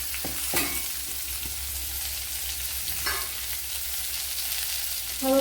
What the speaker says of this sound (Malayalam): ഒരു എട്ട് കൊച്ചുള്ളി ഒരു ചെറിയൊരു സവാള അത്ര ഇട്ട് കൊടുക്കുക